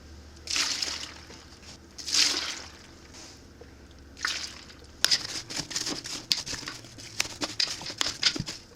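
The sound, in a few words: water poured into a pot of apples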